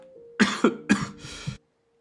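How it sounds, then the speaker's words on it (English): A loud burst of four harsh coughs from one person, close to the mic with a steady hum beneath, followed by abrupt silence as the sound cuts off. "I think I was able to mute myself in time for that loud cough."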